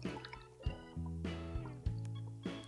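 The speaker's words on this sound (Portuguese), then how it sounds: "Lá no fundo do mar, som de bolhas de ar" Recorded air bubbles rising deep underwater, a series of low gurgling bloops and drips, several distinct bubble bursts in a close, steady watery texture.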